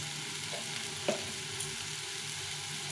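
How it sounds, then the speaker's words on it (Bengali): Pumpkin pieces with chickpeas, peanuts, cumin and chilli powder fry in a pan, a steady soft sizzle with a few spoon scrapes of stirring, close and fairly quiet, no voices. "এটাকে ভালো করে ভেজে নেব"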